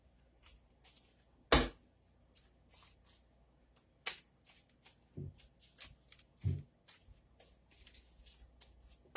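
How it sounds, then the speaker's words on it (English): A deck of tarot-style cards is shuffled and split by hand in a quiet room, giving scattered soft riffles, taps and a few sharper slaps of cards, close and intermittent against near silence. "I'm going to shuffle. I'm going to split the deck."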